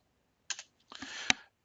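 A few quick computer keyboard keystrokes typing an answer, two soft taps followed by a short burst of clicks ending in one sharper key press, close and quiet with no talking.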